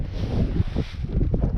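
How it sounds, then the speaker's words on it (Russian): Wind gusting around a fishing boat out on open water ahead of bad weather, a rough, buffeting rush that pounds the microphone in short bursts, close and fairly loud, with no talking. "Ветер уже задувает."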